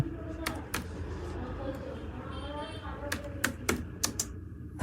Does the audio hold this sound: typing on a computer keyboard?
yes